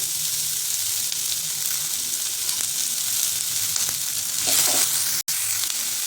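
Cumin seeds and onion hitting hot oil for a tadka, giving a steady close sizzle with a brief louder flare near the end and one sharp click.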